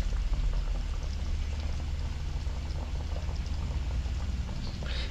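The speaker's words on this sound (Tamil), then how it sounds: "இதுக்குள்ளே நாங்கள் மீனை சேர்த்துக்கொள்ள போகிறோம்" Fish goes into a simmering Tamil-style mural fish curry, giving a steady dense bubbling and sizzling that fills the whole stretch, close and even with no talk.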